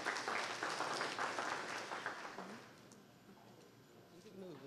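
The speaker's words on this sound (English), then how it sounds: "I'd like to give you a hand and applaud yourselves for being here." An audience at an evening county town hall meeting claps for themselves, a moderately loud burst of applause that thins out and fades, with faint voices underneath toward the end.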